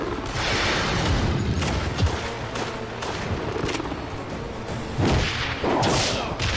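Video game gunfire, heard as loud, dense volleys of sharp shots and cracks with occasional heavier thumps, running continuously up close.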